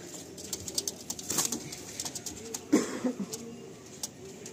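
Madrasi pigeons in a loft at Garia, soft low cooing with rustles and occasional wing flaps, fairly close, amid faint background noise.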